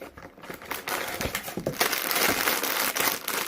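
A crinkly plastic wrapper on a pack of trading cards is torn and pulled open, producing a steady stream of close, fairly loud crackling and crumpling that builds and continues throughout.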